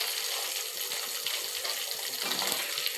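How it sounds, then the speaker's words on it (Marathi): Kerala-style banana chips frying in hot oil, a continuous bright bubbling crackle with a watery hiss, close and steady throughout with no talking. "तुम्हाला आवाजही येत असेल खळखळचा."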